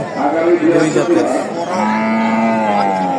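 Cattle and bulls low with long, loud moos at a busy village cattle market before Qurbani, one drawn-out call following another against background chatter.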